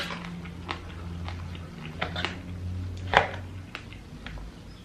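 Crunchy food with small crisp bits is chewed close up in sparse, irregular crunches over a low background hum, with no talking.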